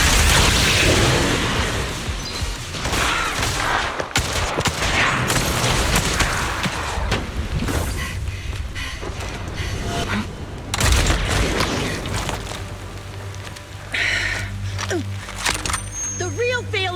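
Sniper gunfire in the video game Zenless Zone Zero, loud booming shots and crashing impacts packed across a dense battle mix, with voices talking over the action throughout.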